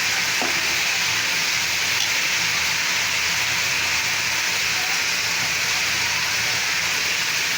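Beef tripe stir-fried with spices in a pan, cooked in a village style, gives a loud, steady sizzle and hiss throughout, close up, with no talk.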